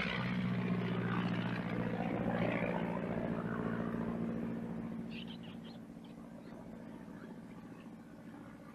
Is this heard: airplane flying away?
yes